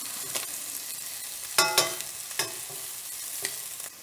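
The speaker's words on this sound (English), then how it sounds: "now the shrimp are cooked on the other side" Shrimp for scampi fry in a hot pan with a steady soft sizzle, broken by a few louder crackling spits and clatters as the pieces settle, close and alone without talk.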